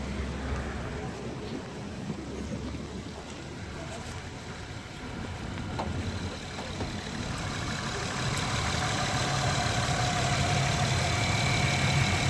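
A Honda Pilot engine idles with a steady low rumble that grows slightly louder toward the end, a voice speaking briefly over it.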